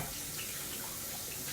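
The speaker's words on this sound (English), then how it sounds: "rinse my hands off." Tap water runs steadily over hands being rinsed at a kitchen sink, a brief, soft, even splash with no other sounds.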